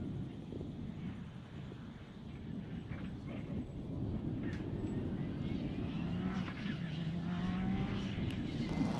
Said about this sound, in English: Sequential gearbox in this WRX, bug-eyed WRX.